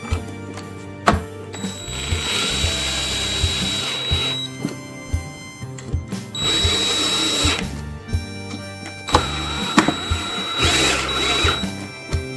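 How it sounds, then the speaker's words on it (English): A power drill drives screws into a controller plate in repeated bursts of whirring and ratcheting, close and loud with brief pauses between runs, no talking. "Let's go ahead and tighten those down."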